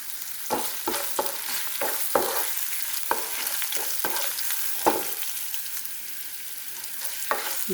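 Chili frying in hot oil for Kerala lemon pickle (kari naranga achar), stirred with a spatula: a steady sizzle with repeated scraping strokes and clicks against the pan, close and loud, with no voices.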